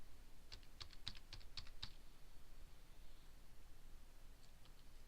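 A number being typed on a computer keyboard, a quick run of about eight light, close key clicks in the first two seconds, then a few faint taps over a steady low hiss, with no speech.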